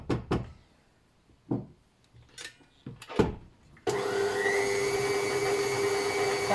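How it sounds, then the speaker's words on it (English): Electric mixer creaming shortbread mixture, a few knocks and clatters of handling, then the motor switches on midway and runs with a loud, steady whirring drone to the end. "I'm going to just keep whizzing it up until it gets that lovely pale creamy colour"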